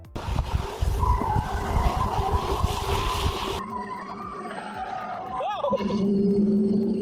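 A car drifting on the Suzuka circuit in Japan, tires skidding and squealing through corners with a roaring engine, loud and close, with a voice talking over it.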